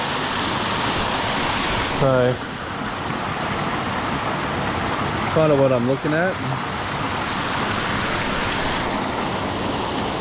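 Buderim Falls waterfall, a steady loud rush of falling water close by, with someone talking briefly over it twice.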